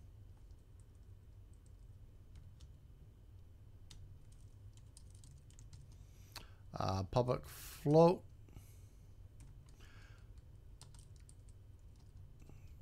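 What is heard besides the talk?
typing on a new computer keyboard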